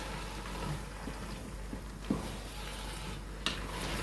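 A spoon stirs avial, a Kerala vegetable curry mixed with curd, in a pot, giving soft, steady scraping and wet mixing under a faint sizzle, with a few sharper knocks against the pot.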